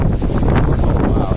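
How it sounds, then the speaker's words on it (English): Strong typhoon wind buffets the microphone in Shanghai, a loud continuous rushing roar with gusty swells throughout. "So as you can see, it's pretty windy. Very, very windy out here"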